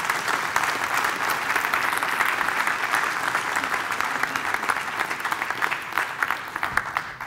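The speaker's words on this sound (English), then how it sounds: "A big round of applause" An audience at a civil service quiz event breaks into sustained applause, dense clapping that holds steady, then thins and trails off near the end.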